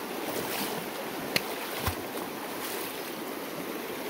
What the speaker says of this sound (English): There's like a small waterfall